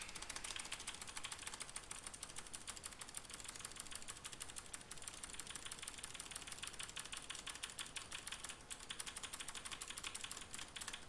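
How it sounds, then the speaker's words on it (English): Computer keys clack in rapid, continuous typing, faint and steady throughout with no voices over it. "Yeah, I know, there's keyboard clackling."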